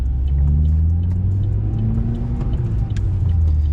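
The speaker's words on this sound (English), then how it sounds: "my engine sounds like it's gonna blow up" A Vauxhall Corsa engine and exhaust revving hard in first gear, close up and loud, a steady strained drone with rising and falling pitch and no voices.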